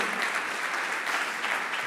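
A church congregation breaks into steady, dense applause that fills the room and holds at an even level from start to finish, with no voices rising above it.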